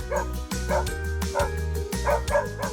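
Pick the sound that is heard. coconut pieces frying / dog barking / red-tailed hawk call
dog barking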